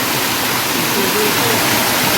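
Clear water running continuously over stones in a village stream at night during crab catching: a loud, close, unbroken rushing hiss with no pauses.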